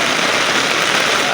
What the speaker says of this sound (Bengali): প্রচুর বৃষ্টি হচ্ছে আমাদের এখানে